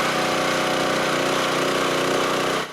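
A powered auger bores holes into clay-heavy ground for carport posts, a loud, close, steady engine drone with a buzzing rattle that runs unbroken before cutting off at the end.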